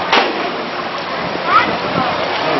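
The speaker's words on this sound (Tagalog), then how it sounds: "Matindi ang baha dito sa atin. Napakadumi pa ng tubig." Dirty floodwater rushes and splashes loudly and continuously inside a flooded house during Typhoon Hagupit, with a few sharper sloshes on top of the steady flow.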